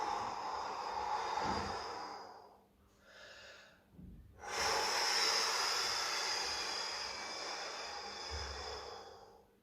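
A person exhales during a workplace stretching and breathing exercise: a short breathy puff, a brief pause, then one long, close, steady outward breath that slowly fades.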